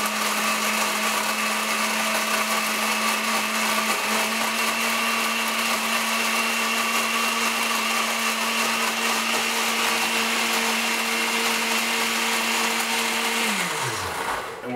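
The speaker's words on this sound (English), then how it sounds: "We're going to go in, we're going to get it nice and blended up." A blender purees a sauce with about half a cup of water, running as one loud, steady whirring drone close by, then winding down sharply in the final second.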